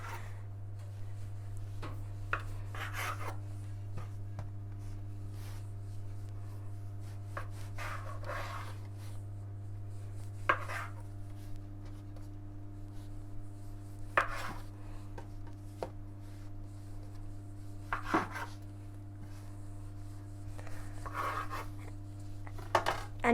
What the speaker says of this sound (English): Now cut the dough into 8 bits